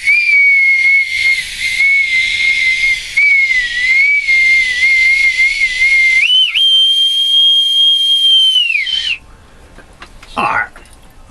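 A bosun's whistle pipes aboard, one long, loud, sustained shrill tone that wavers, steps up in pitch and then cuts off, followed by a brief faint rising squeal in a quiet gap.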